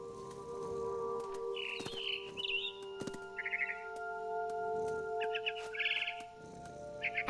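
Bird chirps in What Remains of Edith Finch, short bright tweeting bursts scattered over a steady tonal drone and ambient game sound, moderately close.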